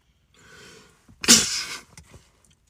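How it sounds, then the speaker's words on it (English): A person lets out a single sharp, loud sneeze at close range inside a car, preceded by a short in-breath and followed by a faint exhale. "I know you did not just sneeze on me."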